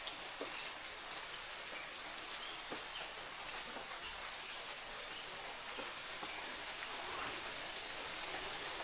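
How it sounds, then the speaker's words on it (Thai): Steady rain falls continuously, a dense even hiss of drops on surfaces, with a few faint birds in the background. "ฝนก็ตกเนาะ"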